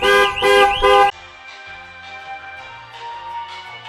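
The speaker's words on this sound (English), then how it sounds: "now I've turned the alarm off" A car alarm blares three loud, rapid horn-like honks, then stops abruptly, leaving faint tonal ringing behind.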